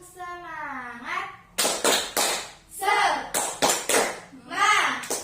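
Children in a classroom clap a short rhythmic cheer in several quick bursts of claps, and their chanting voices come between the bursts.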